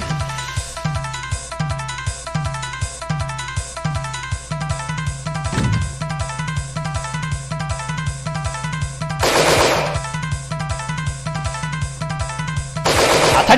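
Rapid machine-gun style gunfire from a Simulation RPG Tsukuru 95 game, Fastin Lastout, repeating in steady bursts across the clip with a couple of louder noisy blasts near the middle and end, over game music.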